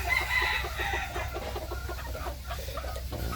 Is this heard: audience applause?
no